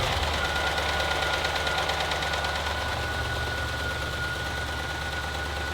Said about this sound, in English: Why does it sound like top end knock?